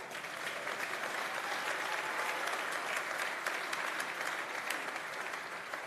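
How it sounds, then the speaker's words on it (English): A congregation applauding at a pastors conference session of The Covenant Nation, sustained dense clapping from a large crowd filling the hall at an even level throughout. "If you want to clap, clap well."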